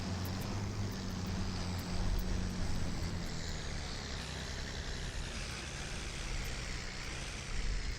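A big, heavy farm tractor engine runs steadily and close, a dense, even mechanical drone with a quick, busy sewing-machine-like patter, holding constant throughout with no voices.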